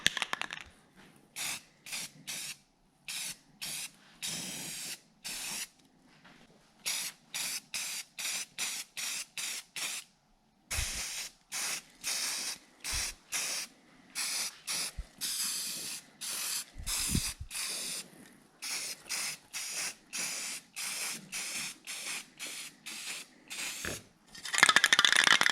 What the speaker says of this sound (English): we're going to give it a coat of primer and then I guess we'll watch it dry